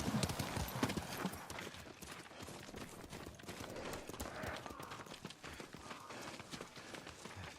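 Horse hooves clatter in quick, galloping clip-clops in the video game Ghost of Tsushima, moderately close over a busy ambient background, with a faint whinny.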